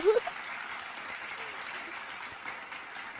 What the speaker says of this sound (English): Thank you for the claps.